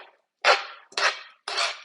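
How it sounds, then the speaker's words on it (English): Arugula wilting in a pan as it is mixed around, heard as three separate clattering utensil strokes against the pan, close and sharp, with near-silence between them and no talking. "now we just want the arugula to wilt, so mix it around"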